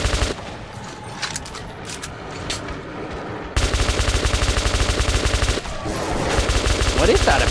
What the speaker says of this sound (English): What is that, a P90?